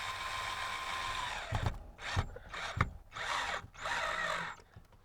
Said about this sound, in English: I get my very nice new rigid drill